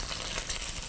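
Leftover turkey frying in oil in a pan, a steady close sizzle with no talk over it.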